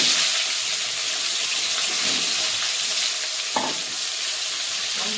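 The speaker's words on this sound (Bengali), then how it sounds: "এবার আলুগুলো ভেজে নেব।" Potato pieces sizzle in hot oil in a pan after fish has been fried in it. A steady, close crackling hiss continues throughout, with a brief clink of a utensil partway through.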